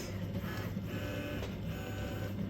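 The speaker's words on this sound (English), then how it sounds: "You can see now it's 3D printing" An Easythreed K1 3D printer printing, a steady close mechanical hum and whir of stepper motors with faint rhythmic shifts, no talk.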